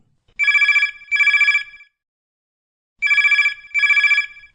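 A telephone rings in two pairs of electronic trills, each pair separated by a pause, clear and close with nothing else around it, as a farmer's call comes into a radio phone-in show.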